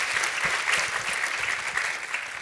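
A conference audience at a UX event gives the organizing committee a steady, dense round of clapping that keeps up without a break through the whole moment.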